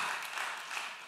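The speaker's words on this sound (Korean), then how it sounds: "박수. 네, 박수." A church congregation applauds at a Sunday afternoon service, a short burst of dense, steady clapping from many hands filling the room.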